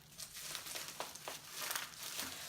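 Close crinkling and rustling of a thin plastic bag around a 1993 Macintosh TV mouse being handled and pulled open, irregular bursts over a couple of seconds.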